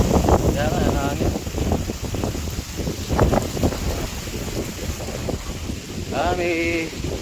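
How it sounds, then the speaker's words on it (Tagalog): Strong wind buffets the microphone in a continuous low rumble and roar, with people talking intermittently and brief high chirps or squeaks standing out over the gusts. "Kaya nga, ang hangin."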